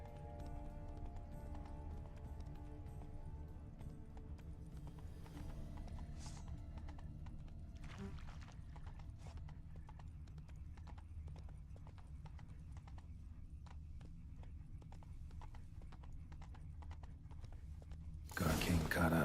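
Horse hooves clip-clop continuously in The Witcher 3 as spooked horses pull away along a road, a steady near rhythm with an occasional whinny and game sound effects, ending in a sudden loud burst.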